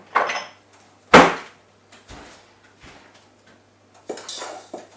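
Flour with a pinch of salt and baking powder is stirred in a bowl for a blackberry and rhubarb tart: scattered clinks, knocks and short scrapes of utensil on bowl, separated by quiet gaps.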